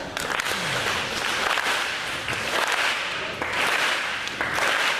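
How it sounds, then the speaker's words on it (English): Crowd of standing teachers at a back-to-school event clapping together, loud rhythmic waves of claps in a large room that build and repeat in bursts. "And now I need you to do a slow clap."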